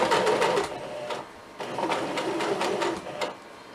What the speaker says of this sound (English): And then we start stitching.